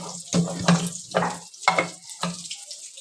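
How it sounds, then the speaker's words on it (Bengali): Water poured to wash a cooking pot in a home kitchen, coming in short separate splashing pulses with gaps of quiet between them. "আর একটু জল দিয়ে দেবো এ বাবা এটা না ধুয়ে দিলে হবে বলো তো"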